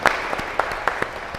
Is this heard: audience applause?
yes